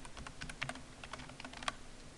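Rapid typing on a computer keyboard, a steady patter of key clicks with a few sharper strikes, close and alone with no talking.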